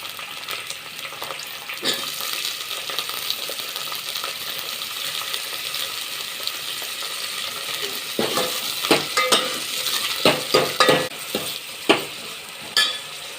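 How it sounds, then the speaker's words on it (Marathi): Mixed vegetables with brinjal sautéing in a pan for sambar, a soft steady sizzle underneath with scraping spatula strokes that become louder, sharper clattering stirs toward the end, close and without talk. "या सगळ्या भाज्या मी परतून घेणार आहे वांग घालून घेऊया"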